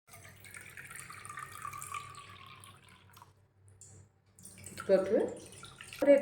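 Two cups of water pouring and splashing into a pan near the end, briefly, after quieter background sounds and a short lull.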